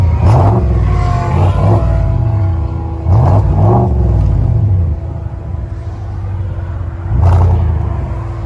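A GMC Sierra AT4 with a 6.2L V8 and an aftermarket exhaust revs several times, each loud throaty swell climbing and dropping back to a deep rumbling idle, heard close and with no talking.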